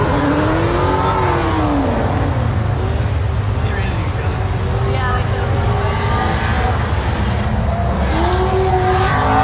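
Race cars at Holley LS Fest East running close together on a track and making contact, with steady loud engine roar, tire noise and crowd-like background throughout, while a person talks over it.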